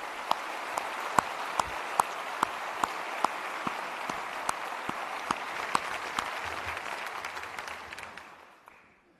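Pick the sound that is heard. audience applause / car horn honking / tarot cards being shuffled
audience applause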